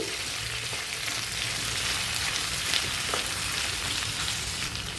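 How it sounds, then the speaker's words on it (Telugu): Sliced ivy gourd fries in a pan with turmeric and salt, giving a dense, continuous sizzle with faint stirring scrapes throughout and no voices. "సాల్ట్ వేయడం వల్ల తొందరగా ఫ్రై అవుతాయి"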